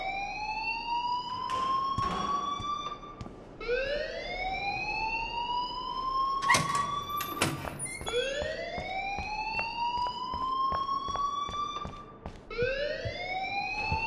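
An alarm in the Life Is Strange video game sounds continuously in repeating rising electronic sweeps, like a wailing siren, with sharp clicks and thuds interrupting now and then.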